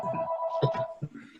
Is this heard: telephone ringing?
yes